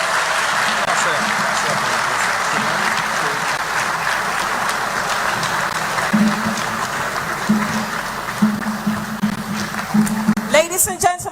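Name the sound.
town hall audience applause for President Mahama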